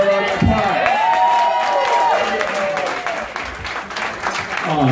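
A crowd at a ball performance applauds and cheers, a busy wash of clapping and shouts under an amplified voice and music, moderately loud throughout.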